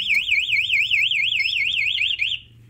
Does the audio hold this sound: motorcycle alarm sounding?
yes